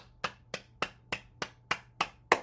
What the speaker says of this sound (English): let's clap our hands